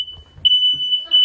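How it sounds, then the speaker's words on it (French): A kitchen smoke alarm, set off by greasy cooking, emits a steady, piercing electronic tone that grows louder partway through, with faint voices and movement beneath it. "Il y a l'alarme incendie."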